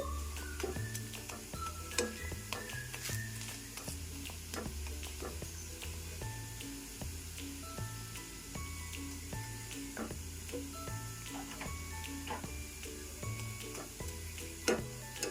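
Steady sizzling of flatbread frying in a pan, with scattered clicks and light scraping throughout.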